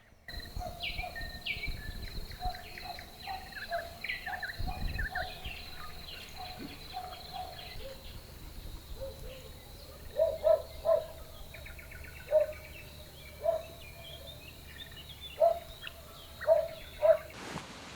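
Evening birds call and chirp in a quiet outdoor setting by a carp fishing lake in May, scattered varied notes early, then a series of repeated short calls spaced a second or two apart.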